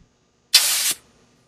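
A short, sharp hiss of nitrogen gas bursts from a regulator nozzle pressed onto a valve adapter on a ROVVER X sewer inspection crawler component. A single close, loud blast lasts about half a second, then cuts off to quiet.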